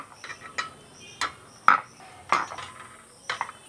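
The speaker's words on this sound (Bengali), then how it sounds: "প্লেটগুলো বের করলাম" Steamer plates lifted out of a momo steamer, several separate sharp metallic clinks and knocks spaced out over a few seconds against a quiet room.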